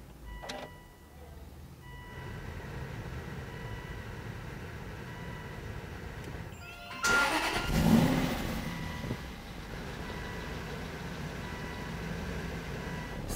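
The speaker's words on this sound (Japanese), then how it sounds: "ではエンジンを始動していきます。" A 2008 Aston Martin V8 Vantage Sportshift engine starts with a burst of cranking and a loud catch around the middle, then settles into a steady idle at moderate volume.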